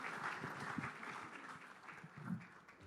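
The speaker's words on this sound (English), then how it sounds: "big round of applause to these three and all of you" Audience applause for three startup panel speakers at an engineering college event in Bengaluru, a steady wash of clapping throughout with a faint voice or two underneath.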